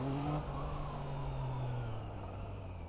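A Triumph Trident 660 motorcycle with its stock exhaust gives a steady, full engine drone close by. Its pitch dips slightly and then holds, with no one talking over it.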